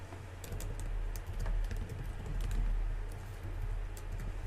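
Typing on a computer keyboard: a quick run of light, irregular key taps sits close over a steady low hum, continuous for a few seconds with no talking.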